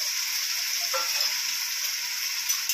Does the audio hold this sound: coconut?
yes